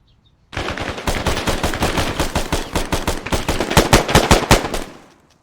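Automatic gunfire rattles in a close-quarters combat mission in the video game Arma 3, a loud rapid string of shots starting abruptly and running for about five seconds before cutting off.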